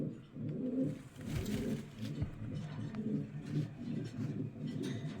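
A flock of pigeons kept for sale, a mix of pied, King and Romani breeds, coos close by in steady overlapping throaty rolls, with several birds calling at once and no pauses.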